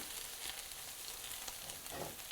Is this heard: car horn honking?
no